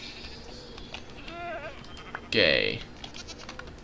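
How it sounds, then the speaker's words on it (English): A goat in Minecraft TerraFirmaCraft gives one clear, fairly close bleat, with quieter bleating earlier, while a person talks briefly. "Oh my god, look at all the goats."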